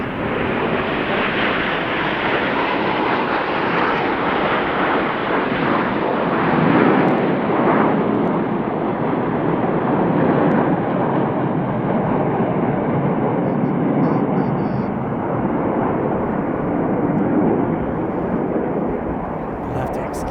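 Frecce Tricolori display jets roar overhead at the Royal International Air Tattoo air show, a loud, continuous broadband engine rush that swells slightly and holds steady throughout.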